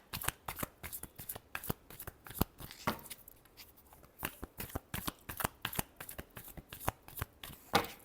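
A deck of tarot cards being shuffled over and over in quick, crisp riffling bursts, close and steady with a brief lull partway through, with no voices.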